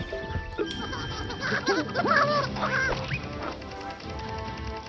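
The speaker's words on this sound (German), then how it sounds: "Guck mal, die Möwen singen mit." Seagulls calling in the video game Mario + Rabbids Donkey Kong Adventure, a few squawking, quacking cries over steady game music and background ambience.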